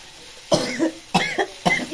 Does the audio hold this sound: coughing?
yes